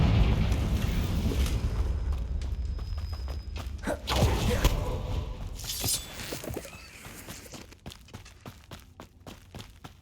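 Confringo fire spell explosions in Hogwarts Legacy: a deep booming blast with crackling, shattering debris, a second burst midway, then trailing thuds and clatter, loud and close, with no talk.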